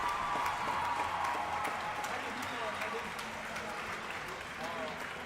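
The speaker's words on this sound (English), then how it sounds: "the crowd's cheering for her" A crowd at a senior girls' volleyball final claps and cheers steadily for an injured player as she gets back up, a dense, sustained wash of applause with voices mixed in throughout.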